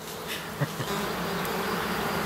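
A fly that looks like a bee buzzes near a black honeybee hive, a continuous close drone with a couple of small bumps.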